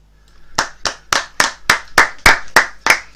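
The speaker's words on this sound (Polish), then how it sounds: "Tak więc brawa również od nas." Applause at a Miro Zografski memorial ski jumping competition at Planica, given as a tribute after a minute's silence: about ten sharp, evenly spaced claps ringing out close and loud.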